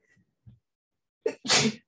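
A single loud sneeze with a sharp inhale just before it, preceded by a couple of faint breaths, close to the microphone.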